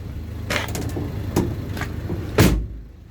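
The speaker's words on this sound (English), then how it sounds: "And the door's closed nicely, no problem there." Doors on a 2014 Ford Transit Connect 1.6 TDCi van, formerly company owned, are handled with a few clicks and latch knocks, ending in one solid, loud slam that fades to quiet.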